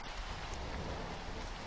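Steady rain falls on surfaces in a dense, even hiss as a sound effect in a narrated cyberpunk story, continuous throughout with no voices.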